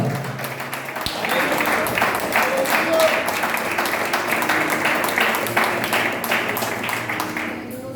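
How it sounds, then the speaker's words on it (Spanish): Applause during a church service, dense clapping from a congregation that builds quickly and holds steady for several seconds, with voices mixed in under it. "Aplauda, aplauda, aplauda."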